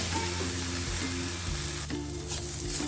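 Fenugreek (methi) seeds dry-roasting in a pan without spices, a steady soft sizzle with low tonal hum running throughout, no voices.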